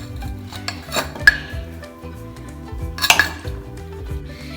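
A spoon scrapes and clinks against a pot while stirring thick sweet pongal made with flattened rice (poha), giving close, irregular metallic knocks and scraping strokes, loud, with no talk.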